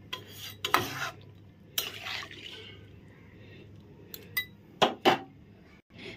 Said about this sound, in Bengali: বেসনের ব্যাটারটা তৈরি করে নিচ্ছি।